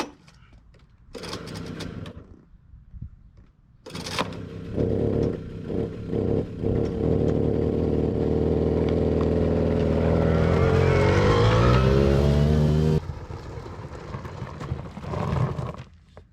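Small Suzuki QuadRunner 50cc ATV engine with old, varnished gas sputters to life after a pull start, then runs and revs at close range in a steady two-stroke drone before dropping back to a rough idle, with no talking over it.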